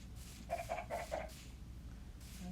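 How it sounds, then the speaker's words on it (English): Chicken clucking in a video game, a short run of four or five quick clucks, faint against a low background hum. "That's a chicken."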